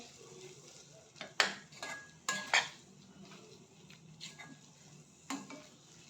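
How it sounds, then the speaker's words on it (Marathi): Baingan bharta being mixed in a pan, with a utensil giving several sharp metallic clinks and scrapes against the pan at irregular intervals over a quiet background with a faint sizzle. "आणि पुन्हा एकदा छानपैकी मिक्स करून घ्यायचं."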